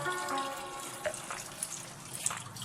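An aquarium siphon hose draws water and debris from the tank bottom, a steady close gurgling, sucking flow with small bubbling pops over a few seconds.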